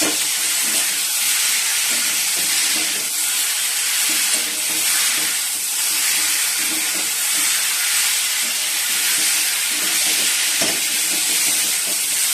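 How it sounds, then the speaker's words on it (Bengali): Cauliflower and potatoes frying in a cooked-down spice paste, a loud, steady broadband sizzle and hiss that runs unbroken, with faint crackles and clatter underneath. "মশলাটা কষানো হয়ে গেছে, এবার ফুলকপি আলুগুলো দিয়ে দিচ্ছি"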